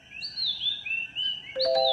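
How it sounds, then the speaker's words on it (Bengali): An oriental magpie-robin at dawn sings clear, high, sliding whistled phrases in quick succession, close and bright, with a burst of overlapping notes near the end and no voices. "ভোরবেলায় দোয়েলের ডাক অনেককেই শৈশবে ফিরিয়ে নিতে পারে এক নিমিষেই।"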